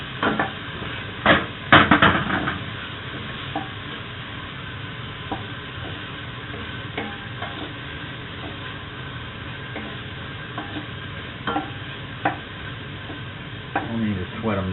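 Onions added to browning garlic sizzle steadily in a stew pot for hamburger stew, a continuous frying hiss broken by frequent clicks and clanks of a spoon against the pot, with talk over it.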